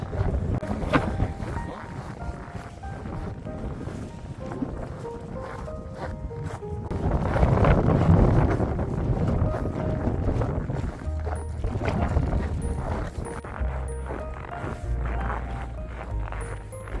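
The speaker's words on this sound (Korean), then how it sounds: "정말 매서운 바람이." Strong cold wind on a frosty mountain peak in Deogyusan: constant loud rushing and buffeting across the microphone that swells for a few seconds midway, with footsteps and a voice talking over it.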